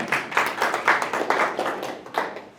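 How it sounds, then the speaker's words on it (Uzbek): A seminar audience gives a short round of applause, brisk overlapping hand claps close by and fairly loud, tapering off after a couple of seconds. "Bitta qarsak choq qo'yaylik."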